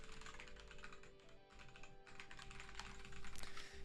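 Rapid, soft key clicks from typing on a Dactyl computer keyboard, quiet and close, with an uneven rhythm of short bursts and a faint tonal hum in the background.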